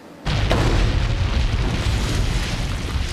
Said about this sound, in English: I'm going to put that in the ground to act as if it was going off on point detonation